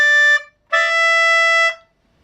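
A DG melodeon sounds two clear reedy notes on D, a short one followed by a brief gap and then a longer held note that stops cleanly, rich in harmonics and played alone.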